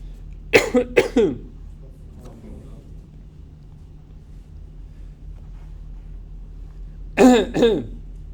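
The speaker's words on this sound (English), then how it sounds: "Throat clearing." A person clears their throat twice in quick succession, close and loud, then after a quiet pause clears it once more with a rougher, drawn-out rasp.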